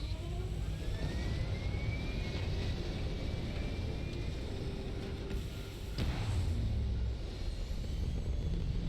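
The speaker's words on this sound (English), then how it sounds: "We have liftoff." A spaceship lifts off in the Starfield video game, a steady loud engine roar with rising whine and a rumbling surge near the end.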